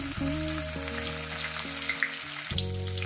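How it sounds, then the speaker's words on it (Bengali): Katla fish pieces sizzle in hot oil in a pan, a steady, close frying hiss running the whole time with a low hum beneath and no voices. "এই মাছটাও ভাজা হয়ে গেছে, এই মাছটাও তুলে নিলাম বন্ধুরা।"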